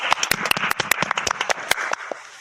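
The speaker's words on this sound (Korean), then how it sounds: "박수!" Applause from a small group of elementary school students, a few distinct sharp hand claps in a loose uneven rhythm that thins out and stops after about two seconds.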